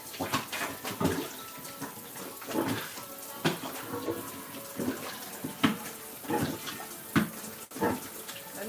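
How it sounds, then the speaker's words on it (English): Red kidney beans rinsed under a running kitchen tap, steady water flow broken by repeated sloshing and splashing bursts as the beans are stirred, close and fairly quiet. "we rinse our beans"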